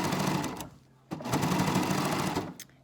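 A serger sewing machine stitches across the end of a fabric mask in two quick bursts of fast, whirring stitching separated by a brief pause, close and fairly quiet, with no talking.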